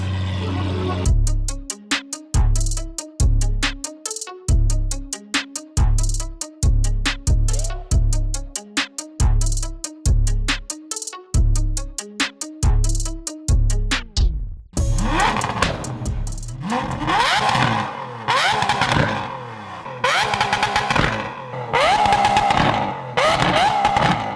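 A loud Lamborghini Aventador SVJ supercar engine revs in rapid repeated blips, then its exhaust roars and crackles harshly as it pulls away, close and aggressive.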